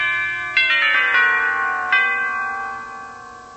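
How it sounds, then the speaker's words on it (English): Doorbell chimes at a front door strike a few times in sequence, each tone ringing out and slowly fading, clear and close with nothing else around. "walked up to the front door and rang the bell"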